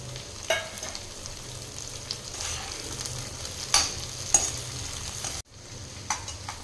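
Onion and tomato fry in a pan for a capsicum gravy, a low steady sizzle with a few sharp spatula clicks and scrapes, briefly cut off near the end, without talk.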